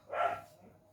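A dog barks once nearby in a quiet room, a single short, fairly loud bark that fades into faint background hum.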